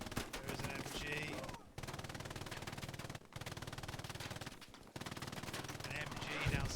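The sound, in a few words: machine gun fire in video game Hell Let Loose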